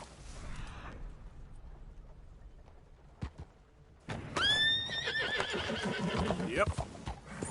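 A horse in Red Dead Redemption 2 lets out a loud, close neigh that rises and trails off, after quieter hoofbeats and a sharp knock, with a voice speaking around it.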